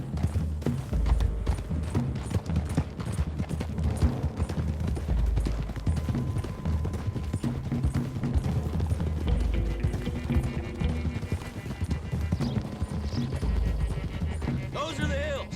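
Several horses' hooves clip-clop steadily on a road in the video game Red Dead Redemption 2, a continuous trotting rhythm mixed with background game sounds and music throughout.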